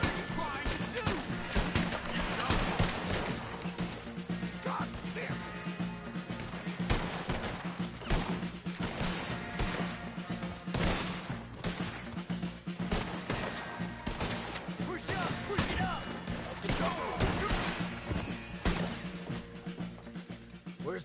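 Heavy battle gunfire from the Red Dead Redemption 2 video game, near and far rifle shots and rapid volleys crackling nonstop with crashes mixed in, while voices shout in brief bursts over the fighting.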